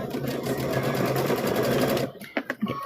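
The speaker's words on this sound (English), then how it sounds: "we're gonna sew all 4 of those together" A sewing machine stitches pieced quilt blocks together in a steady, fast continuous whir for about two seconds, then stops, leaving a few faint handling clicks and taps.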